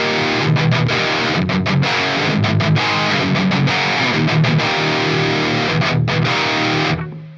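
Clean electric guitar with a Boss SD-1 overdrive pedal switched off, a steady strummed passage with rhythmic chord changes played alone at full volume, ringing out and cutting off near the end.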